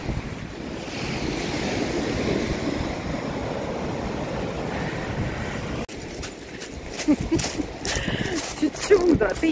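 Sea waves wash steadily onto a Kastropol beach in late February, a continuous broad roar of surf with gusty wind buffeting the microphone; the second half turns choppier with sharper bursts of wind and splash.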